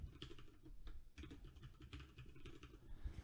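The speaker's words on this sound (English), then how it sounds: "Let me try to retype this again." Rapid clicking of a computer keyboard as a password is typed, steady close-up keystrokes in quick bursts with no voices.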